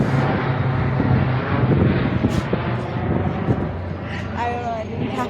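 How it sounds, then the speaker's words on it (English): A large airplane flies low overhead in Bangalore, a loud, steady broadband engine roar with wind buffeting the microphone, sustained throughout and close. "you get to see so big planes very nearby"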